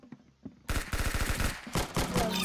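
Rapid automatic gunfire in the Roblox shooter Arsenal, a loud, fast rattle of shots bursting in suddenly and continuing for about two seconds.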